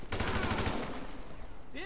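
A short burst of rapid automatic gunfire from a GTA V mission, close and loud, giving way to a voice near the end.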